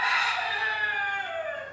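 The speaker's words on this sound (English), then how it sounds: "chickens and roosters" A rooster crows on a goat farmstead creamery, one long, loud, close call that slides down in pitch and fades near the end, with no talking.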